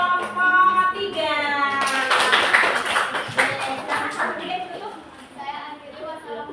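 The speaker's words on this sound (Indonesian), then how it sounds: "kasih tepuk tangan untuk kelompok 3" A classroom of students claps in a burst of applause that swells for a few seconds and then tapers off, heard close, with children's voices chattering over and around it.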